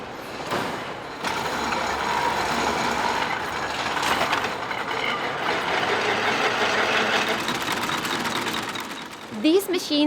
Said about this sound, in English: the workers are even using machines from the 19th century to create the thread used for the Burel products